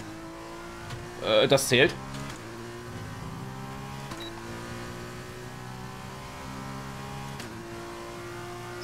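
F2 race car in a racing video game at Bahrain, a steady high engine whine with downshift blips and braking, heard under a brief spoken remark near the start.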